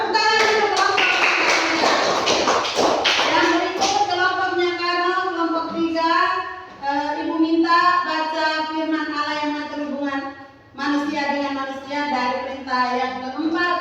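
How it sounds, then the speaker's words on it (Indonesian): Clapping from a Catholic religious education class applauding a student group, a brief patter of hands in the opening seconds mixed under a crowd of voices reciting and chanting together. "Tepuk tangan untuk kelompok"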